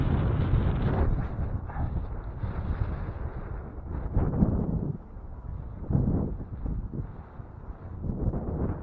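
Gusty wind blowing across a lake at a fishing spot, a constant low rumbling buffet on the microphone that swells and eases over several seconds, with no speech.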